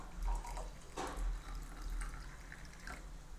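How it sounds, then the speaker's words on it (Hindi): Water poured into a glass holding Eno powder, a soft continuous splashing and trickling, close and fairly quiet, with no talk. "अब इसमें डालते हैं पानी"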